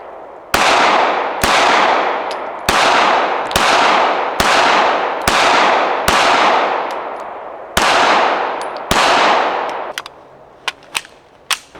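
Gunshots at a shooting range, about ten sharp loud reports fired at an even pace of roughly one per second, each ringing out in a long decaying echo, then a few lighter metallic clicks at the end.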